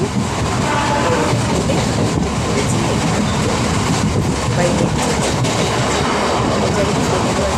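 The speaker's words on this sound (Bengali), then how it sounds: "ট্রেন ঢুকে গেছে।" A train pulls into a station, its wheels clattering in a rhythmic clickety-clack over a rumbling, roaring body of noise. It is loud and close throughout, and a person speaks briefly over it.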